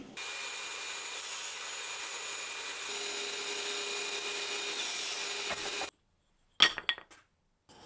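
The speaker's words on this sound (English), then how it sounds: "So I'm going to get my mitre gauge set up and get it all cut down." A wooden dowel is sawn to length against a mitre gauge, giving a steady, close rasping cut that runs for about six seconds, stops abruptly, then is followed by a few sharp knocks and clatters of wood.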